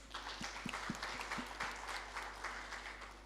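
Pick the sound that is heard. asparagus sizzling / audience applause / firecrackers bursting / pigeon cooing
audience applause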